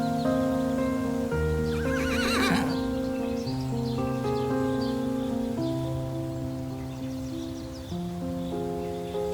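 Zebras on the savanna: one loud, shrill neigh rises and shakes near the start, with faint hoof clops around it, all set against a soft bed of sustained music.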